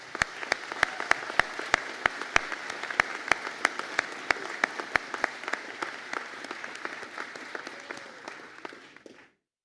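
Sustained audience applause fills a graduation conferring ceremony for the Bachelor of Science in Pharmaceutical Science with Drug Development class, dense and steady with sharp louder claps standing out near the front, tapering off at the end.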